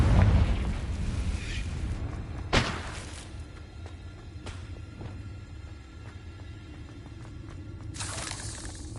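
A Confringo blasting spell goes off in Hogwarts Legacy on PS5, one loud, close burst and rumbling boom that decays, followed by a sharp crack and scattered lighter impacts before another surge near the end.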